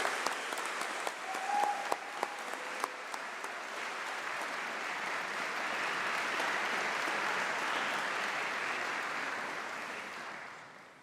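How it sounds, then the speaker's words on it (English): Graduation audience applauding in a large hall at a summer congregation ceremony, a steady sustained wash of clapping from many hands that swells in the middle and tapers off near the end, with a few sharper claps at the start. "Graduands, please join me in a round of applause for our staff and teams."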